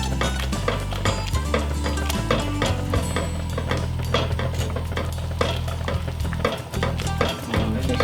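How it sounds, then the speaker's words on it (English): Nearly cooked lentils for dhal curry stirred in a pot, giving a steady, close scraping and churning texture that runs continuously and fairly loud throughout. "We just keep stirring them. Make sure it's not sticking."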